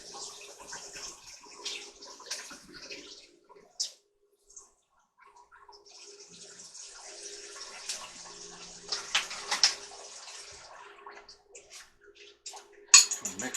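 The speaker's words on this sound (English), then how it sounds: "I'm going to put about a tablespoon of water in to kind of thin it out" A tablespoon of water trickles into a broken egg in a bowl before mixing, a faint close splashing and dribbling with small clinks, heard in short quiet bursts.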